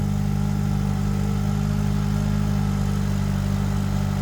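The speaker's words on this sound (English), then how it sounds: "Let's do a cold start up on it here real quick. It sounds like a 4-cylinder" A 2024 Chevrolet Silverado LT pickup with the 2.7 Turbomax four-cylinder engine idles steadily right after a cold start, giving a constant low drone with a faint whine above it, close and unbroken, with no voices.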